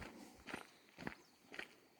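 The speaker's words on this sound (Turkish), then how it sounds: "bak ayak seslerimizden de belli zaten" Three slow, evenly spaced footsteps thud on ground over a hollow underground space near Otlukbeli, Bayburt, each a soft close crunch against a faint steady background.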